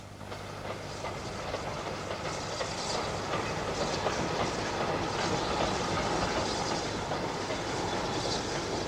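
A steam train with a brake van carrying milk churns rolls past at close range, wheels clicking rhythmically over the rail joints in a steady, loud clatter with no voices.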